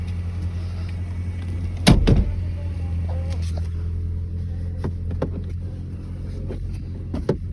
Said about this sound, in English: Power windows, locks, mirrors